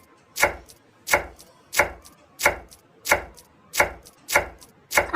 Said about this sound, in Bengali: চলো এবার প্রথমে ধনিয়া পাতাটা কেটে নিই